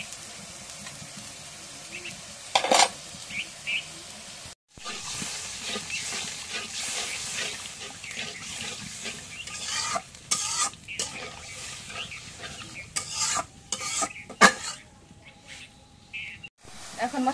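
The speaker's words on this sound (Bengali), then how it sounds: "এখন একটু পেঁয়াজ বাটা দিয়ে দিই।" Onion paste fries and is stirred in a pan during home cooking, with a steady low sizzle and scraping spoon sounds, broken by a few sharp clatters and brief quiet gaps.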